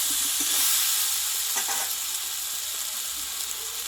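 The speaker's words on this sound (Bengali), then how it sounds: "চিনিটা দিয়ে আমি একটু নাড়াচাড়া করে নেব যখন মশলার সঙ্গে ভালোভাবে কষিয়ে নিয়েছি" Green banana curry with sugar and spices being stirred in a pan over steady frying sizzle, with a few soft utensil scrapes and no talking.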